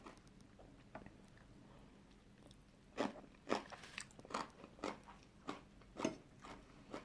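Someone eating spicy Thai pounded peanut salad (tam thua) up close, a run of sharp crunchy bites and chewing coming in bursts after a quieter stretch, with no talking.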